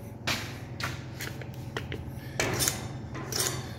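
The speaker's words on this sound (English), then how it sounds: "let's see what we have with a measuring tape here" A measuring tape is pulled out during work on a GMC Vandura van lift kit, giving a few close, crisp rattling clicks and scraping strokes over a low steady hum, with no talk.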